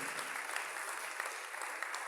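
A church congregation applauding during a Spanish-language worship service, a steady wash of many hands clapping at moderate distance, even and continuous for its whole length.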